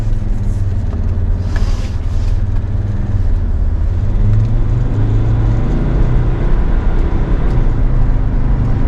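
A SsangYong Rexton SUV on a test drive gives a loud, steady engine drone with shifting low rumble and road noise from inside the cabin, briefly lifting in pitch as it pulls.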